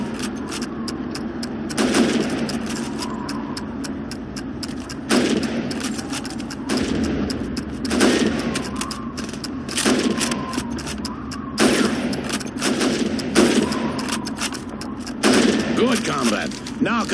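Rifle gunfire at helmet targets during a timed shooting drill in Call of Duty 2, with repeated sharp shots at irregular intervals over several seconds and loud, close reports.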